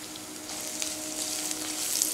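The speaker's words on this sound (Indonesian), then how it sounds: "Jadi di sini aku akan tumis bawang merah dan daun jeruk." Shallots and kaffir lime leaves sauté in hot oil in a pan, giving an even, close frying hiss throughout with no voices.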